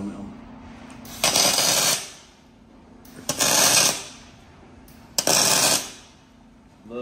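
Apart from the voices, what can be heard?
tack welding steel JCB brackets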